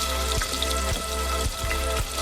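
Raw prawn roe sizzles in hot oil inside a pressure cooker, a dense, steady crackle with a few louder spits and stirring knocks, close by and without voices.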